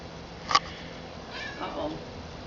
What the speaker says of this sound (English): here comes the kitty